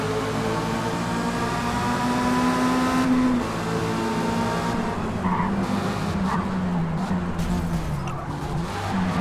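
Race cars in a multiplayer Forza game drive through a crowded first turn, a steady loud engine drone rising and shifting in pitch, with tire squeal and skidding blended in throughout.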